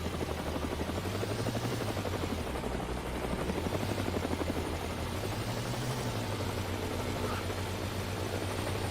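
A supply helicopter making a drop in the survival game HumanitZ: steady, loud rotor thump and engine drone with a slowly wavering pitch, continuous throughout, no talking.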